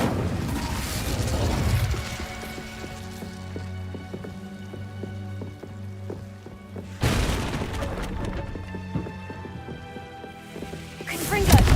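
In Hogwarts Legacy, the Incendio fire spell is cast over tonal game music: sudden whooshing fiery bursts open the moment, flare loudly again midway, and return at the very end.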